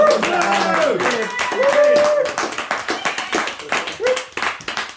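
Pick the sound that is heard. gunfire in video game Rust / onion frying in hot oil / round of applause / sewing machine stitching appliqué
round of applause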